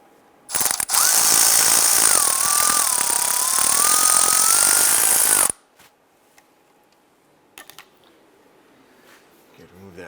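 A power tool spins out the lower starter bolt on a 1995-2001 Ford Explorer: one loud, steady whirring burst of about five seconds with a slightly wavering pitch, then quiet with a few faint clinks.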